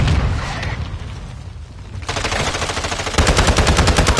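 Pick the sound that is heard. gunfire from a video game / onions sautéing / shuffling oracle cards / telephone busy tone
gunfire from a video game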